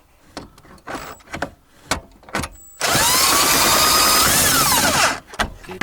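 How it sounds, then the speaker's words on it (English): A pneumatic air impact wrench with a socket removes bolts from a Toyota Corolla E120/E130 dashboard, giving one loud sustained rattling burst of about two and a half seconds between softer clicks and handling knocks. "there is my socket and my air. And I am removing these bolts in there"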